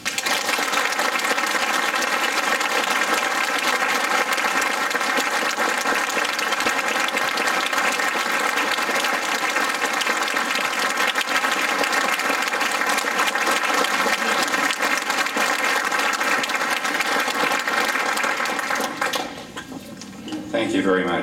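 An indoor audience gives sustained, loud applause to welcome speaker Ward Connerly. The dense clapping holds steady for about nineteen seconds, then tapers off near the end.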